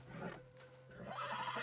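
A horse whinnies in the Western game Red Dead Redemption, a single drawn-out neigh standing out clearly over a steady low hum with no one talking.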